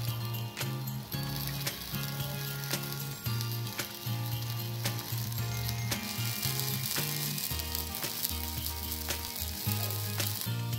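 Rava appe made from semolina and green vegetables sizzle steadily as they cook uncovered in an appe pan, giving a continuous close frying hiss with faint clicks, under a layer of background music.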